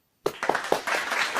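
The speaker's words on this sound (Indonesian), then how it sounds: "Beri tepuk tangan untuk Tami." Classroom applause for a student named Tami after a geometry lesson summary, starting abruptly from silence as a small group of hands claps in a quick, fairly soft, uneven patter.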